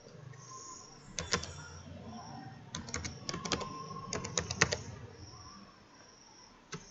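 A password being typed on a computer keyboard while setting up a browser crypto wallet, irregular bursts of crisp, close key clicks separated by short pauses, with no voices heard.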